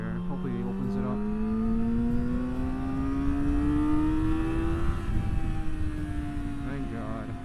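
A Yamaha R6 motorcycle accelerates past a car, its engine whine climbing steadily in pitch for several seconds before levelling off, with rushing wind noise underneath.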